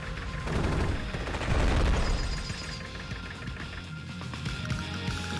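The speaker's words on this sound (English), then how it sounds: "we can use the tank to fire on the recons" A tank firing on recon units in the Nintendo DS game Advance Wars: Days of Ruin, a chunky burst of booming, rattling gunfire up front that fades into softer mechanical game effects.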